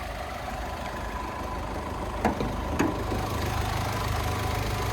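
Steady idle of a twin-turbocharged inline-4 diesel engine in a 2025 Mercedes Sprinter 3500XD luxury coach van, a constant low rumble heard from the open engine bay with two brief clicks midway.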